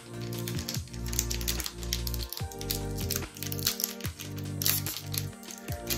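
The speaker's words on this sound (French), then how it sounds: "ce scotch, il est vraiment casse-pied" Sticky adhesive tape tearing off a Pokémon card duo pack, a series of loud ripping, crackling pulls in an irregular rhythm close to the mic.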